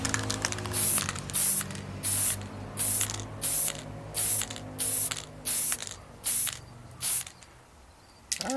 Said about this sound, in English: Going to spray it right down on them.